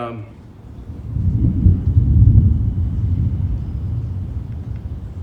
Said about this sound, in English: We got some thunder rolling in.